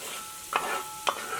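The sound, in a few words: onions and cashews frying in ghee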